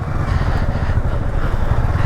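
A motorcycle engine runs steadily with a low, close rumble while the bike is parked at Kailasagiri cave temple. There is no talk over it.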